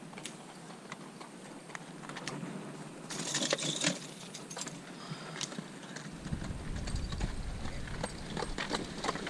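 Horse hooves clip-clop on a hard surface in a steady, rhythmic walking beat, moderately near, with a brief burst of louder noise partway through and no voices.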